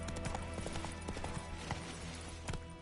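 Roach, the horse in The Witcher: Wild Hunt, trotting with a steady, brisk clip-clop of hooves that stays close and even, layered over a busy game ambience of background sound.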